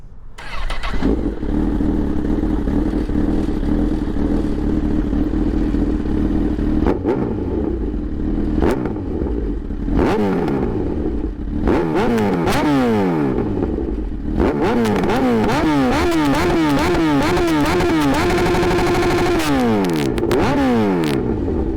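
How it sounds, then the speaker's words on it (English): A Honda CB1000 motorcycle fitted with a Fireblade engine idles in neutral, then is revved repeatedly with sharp throttle blips that rise and fall, close and loud, with mechanical clatter between revs and no speech. "Let's listen to that beautiful CB1000 with that Fireblade engine."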